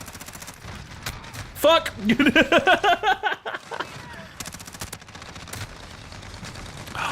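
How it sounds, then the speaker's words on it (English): Bursts of light machine gun and shotgun fire in a video game, loud clustered shots at the start and end with a voice speaking and shouting over the middle. "that LMG and the shotgun and the LMG and the shotgun and the LMG and the shotgun"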